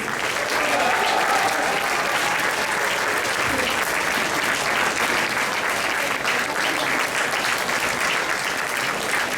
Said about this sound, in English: And a big round of applause for Oksana Dennis.